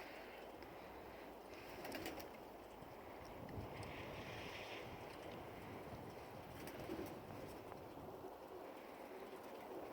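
A kit of eleven roller pigeons is out flying on a gray, sub-freezing day with light snow flurries, heard as faint, distant bird sounds under a steady hiss of wind.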